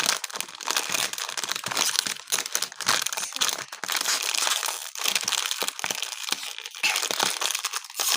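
A crinkly bag of vanilla-flavoured chips is torn open close up. Loud, continuous crumpling and crackling plastic fills the whole stretch, with a few sharper crunches.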